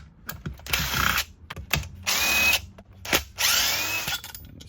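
A ratchet removing T27 Torx bolts from the front shield of a Stihl MS360 chainsaw, with several close, loud bursts of rapid clicking separated by short pauses and handling clunks.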